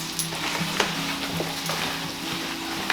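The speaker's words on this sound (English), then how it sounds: "So that's frying up nicely." A meat mixture for shepherd's pie sizzles steadily in a pan, close and constant, with faint stirring scrapes and no talking.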